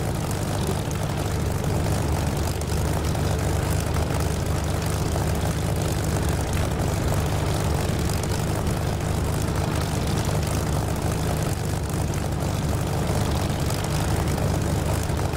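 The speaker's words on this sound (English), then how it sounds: "getting the Echo 19 engine sound for the Spit, because it's beautiful." The Spitfire's piston engine in the DCS flight simulator drones steadily and loudly, a continuous deep propeller roar with no break across the whole stretch.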